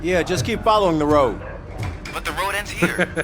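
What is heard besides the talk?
No everyday noise stands out behind the speech.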